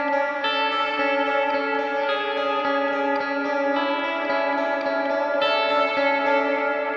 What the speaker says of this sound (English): turn up the delay and the reverb both more to kind of emphasize that heavenly sound